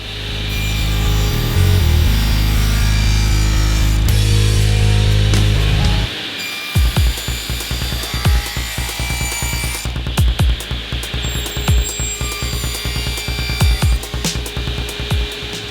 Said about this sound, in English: I'm going to start by cutting an 80-degree bevel on one edge of my plywood.